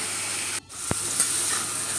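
Steady low sizzle of cauliflower pieces browning in hot oil in a pan, broken by a brief hush and a single sharp knock of a utensil, then the frying continues evenly.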